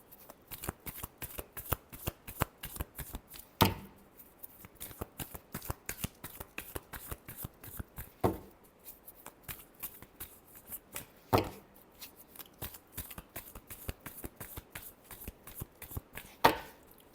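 Tarot cards riffled and shuffled by hand in a steady run of crisp, close flutters, with a few sharper slaps as the deck is squared, no talking.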